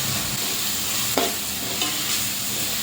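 Ginger garlic paste sautéing in oil in a pan for Thalappakatti biryani, a close, continuous sizzle with a couple of brief scraping stirs and no talking.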